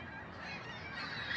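Geese honking steadily in a continuous chorus outdoors during a total solar eclipse in Montreal, a dense wash of overlapping calls at moderate distance with no talk.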